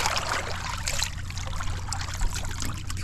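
Water from the Sea of Galilee laps at a warm lakeside bay, a soft continuous trickling and splashing close by, alongside a low rumble of wind or distant motor.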